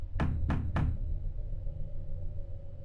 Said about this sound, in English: Suddenly, we hear the sound of someone pounding loudly on the front door